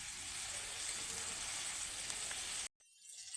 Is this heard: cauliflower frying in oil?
yes